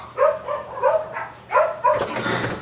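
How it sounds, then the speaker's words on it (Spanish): Several dogs barking outdoors, a series of five or six loud, fairly close woofs in an uneven rhythm, followed by a noisy rustle at the end. "Perritos."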